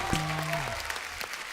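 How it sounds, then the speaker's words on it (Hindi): Studio audience applause on a Hindi comedy talk show, with a brief musical sting at the start, then steady clapping from the crowd that gradually thins and fades. "जोरदार तालियां एक बार।"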